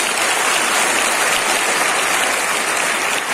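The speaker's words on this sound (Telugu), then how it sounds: "గట్టిగా చప్పట్లు కొట్టండి" An audience at a free anemia training camp in a school claps loudly and steadily throughout, a dense and even wash of many hands.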